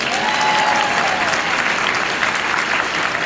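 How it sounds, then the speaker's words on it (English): Loud, dense applause from a group of volunteers and onlookers during a blocking and ball-throwing activity, a continuous roar of clapping hands sustained throughout, with faint voices mixed in. "Give her a round of applause."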